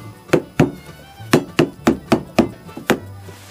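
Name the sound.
closing a lid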